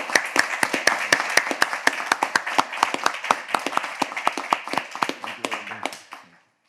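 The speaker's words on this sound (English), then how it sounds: "So round of applause to the President Shahid and to all of you who asked the question." Applause at a round-table discussion with the President of the General Assembly, a small group clapping in close, distinct rhythmic claps that gradually thin out and stop near the end.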